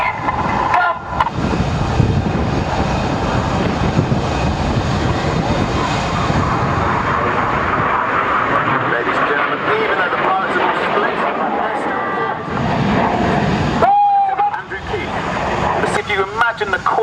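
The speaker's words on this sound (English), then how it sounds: "All flown in a line abreast formation, which is very challenging for the pilots." RAF Red Arrows jets roar past in a line abreast formation at an air display, a loud, sustained broadband engine rush that swells and fades, with a voice talking over it.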